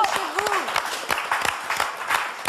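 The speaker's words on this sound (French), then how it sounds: "Moi, j'applaudis. On applaudit" Scattered applause from a modest crowd at a Téléthon fundraising event, with voices talking over it.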